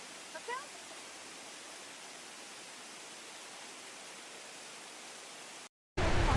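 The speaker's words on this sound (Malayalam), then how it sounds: "അപ്പോൾ നമ്മൾ വെള്ളച്ചാട്ടം കണ്ടു." A forest waterfall throwing up spray roars as a steady, dense wash of rushing water. The sound cuts out briefly near the end, then returns louder.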